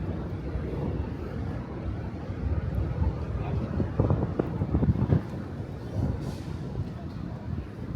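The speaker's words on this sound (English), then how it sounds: "notice some wind and stuff, and that's to be expected in this part of Manhattan" Wind buffeting a microphone on a hot day in the streets of Lower Manhattan, a steady low rumble with gusts swelling and fading over several seconds, no talk.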